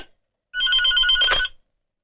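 A telephone rings close and clear in a single ring of about one second as a call goes out to a brother's office.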